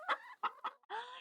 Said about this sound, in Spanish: La gallina hace cloc, cloc, cloc.